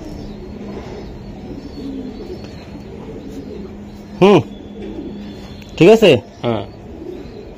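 Racing pigeons for sale give a few short, loud cooing calls near the end, over a low background hum and some talk.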